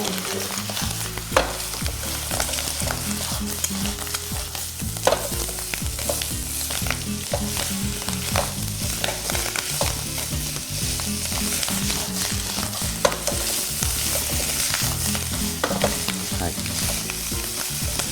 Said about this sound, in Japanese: そしたらここにじゃがいも入れます。 でまた今度炒めていきますよ。